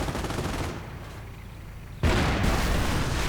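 A Panzer IV tank is destroyed in a World War II strategy game, with heavy gunfire rumbling before a brief lull and then a sudden loud explosive burst that keeps roaring, no voices.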